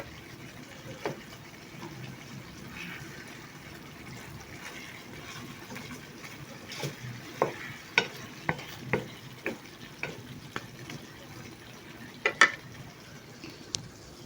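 Chicken topped with butter frying in a kawali, a low steady sizzle with scattered sharp pops and crackles growing more frequent toward the end, heard close with no talking.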